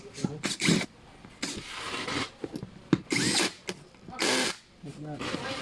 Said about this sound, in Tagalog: So tighten the bolt.